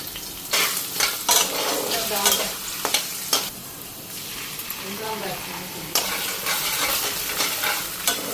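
Cumin seeds dropped into hot oil for tempering crackle and sizzle continuously in a pan near the mic, with sharp bursts and stirring scrapes along the way, during preparation of a spice-paste dish with banana flower.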